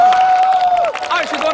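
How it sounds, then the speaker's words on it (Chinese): Applause and cheering from a studio audience at a televised stunt-challenge show greet a jetpack-flying challenger. A dense wash of clapping sits beneath a prominent voice speaking over it. "让我们先把掌声送给我们的挑战者 Nick"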